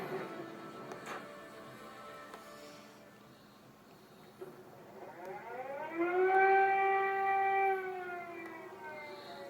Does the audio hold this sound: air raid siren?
yes